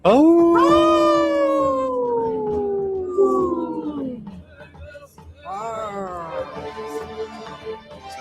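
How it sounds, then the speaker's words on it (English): Recorded wolves howling, long sliding cries that overlap and fade, followed by a second rougher burst of howling, loud and close. "I thought the bears sounded more like Yogi"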